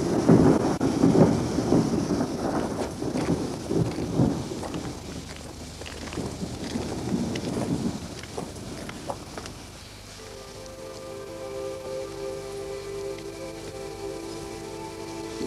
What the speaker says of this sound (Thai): ฝนก็กำลังจะตกด้วย